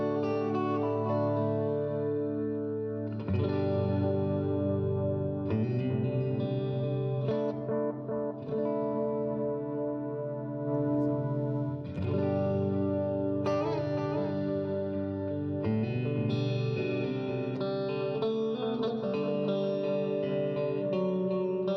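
G211 delay pedal on a light modulation setting, an effected electric instrument ringing through with shimmering chorus-like wobble and echo trails, sustained chords and notes played continuously at steady loudness with no talk.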